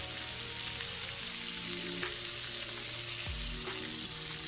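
Lemon rosemary chicken pieces browning in a pan give off a steady close sizzle with faint crackles and a low hum underneath, a single louder pop cutting through near the end, with no voices.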